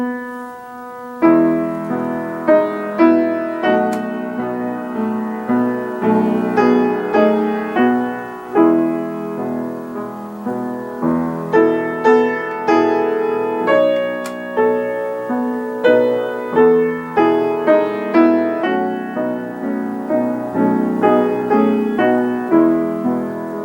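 A solo piano plays a famous classical-style piece in disjointed, uneven phrases, the notes and chords sounding clearly and close with stops and restarts, alone without any voices.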